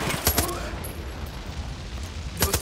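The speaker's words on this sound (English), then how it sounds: "who's shooting at me?" Gunfire in the video game Far Cry 5, sharp shots at the start and end of a brief stretch over a low rumbling game background.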